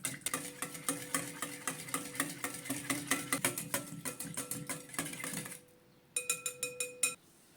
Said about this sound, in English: Use a whisk to give everything a good mix until it's fully incorporated.